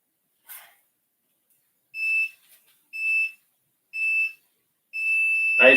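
A Tabata interval timer used during an adult Hapkido class sounds a series of short, high electronic beeps at about one-second spacing, the last one held longer, with a faint shuffle before them.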